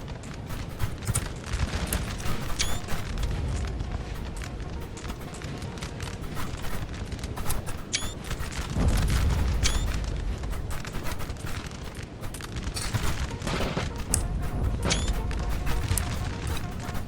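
Massed musket volleys in the Napoleonic battle game NTW3, crackling bursts of rolling fire with booming cannon-like thuds over a constant battlefield roar, dense and continuous throughout.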